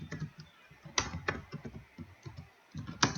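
Code is typed on a computer keyboard in short bursts of quick, close key clicks, with a few sharper, louder strikes and brief pauses between runs.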